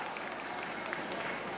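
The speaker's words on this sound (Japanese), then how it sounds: "今一度大きな拍手をお願いいたします" An audience at a YOSAKOI dance festival applauds, a continuous wash of many clapping hands heard from a moderate distance with no pauses.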